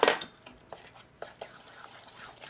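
Brownie batter is mixed after an egg is added, with one sharp utensil clink against the bowl followed by quieter scraping and tapping, close and soft.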